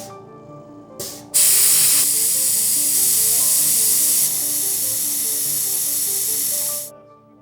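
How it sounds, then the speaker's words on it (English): An Enviroshield electrostatic sprayer, charge switched off, sprays disinfectant at a sphere: a loud, steady hiss starts abruptly after a brief click, holds for about six seconds, then cuts off. "let's see what happens when I spray it with the electrostatic charge turned off."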